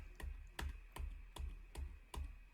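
Keys on a computer keyboard are pressed one at a time in a steady rhythm, six crisp close clicks about half a second apart over a faint hum, while working in Logic Pro.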